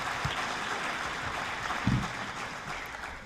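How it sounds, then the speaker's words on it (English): At an evening community education forum, the audience gives Centennial staff and students a round of applause: steady, moderate clapping from a crowd that fills the whole stretch, with no one speaking over it. "If we could please give the Centennial staff and students who are helping us this evening a round of applause."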